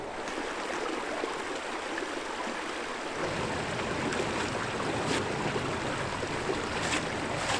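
Rushing river water below Stetind mountain in cold Arctic Norway, a steady broadband roar of flowing water that thickens after a few seconds, with no voices.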